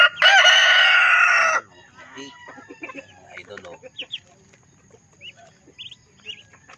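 Black Australorp rooster lets out one loud, close crow, followed by softer clucking and chirping from hens and chicks in a farmyard coop.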